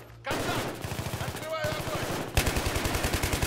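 Rapid automatic gunfire in Battlefield 3 rattles in steady, fast bursts, with a brief pause in the middle before the firing resumes louder.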